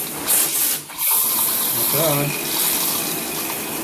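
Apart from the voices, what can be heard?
water spraying from an old shower head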